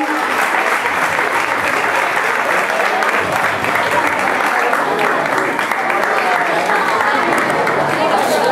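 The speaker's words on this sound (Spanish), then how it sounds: "Aplaudiment." Steady applause fills a hall during a graduation diploma ceremony, dense continuous clapping from a seated audience with some chatter and voices mixed in, holding at an even level throughout.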